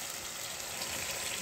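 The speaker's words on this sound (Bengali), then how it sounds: "এবার আমি দিয়ে দেবো মশলার জার ধোয়া জল" Water from a rinsed spice jar is poured into a pan of fried onions for a home-style fish curry, giving a steady, close splashing gush that runs unbroken for the short moment.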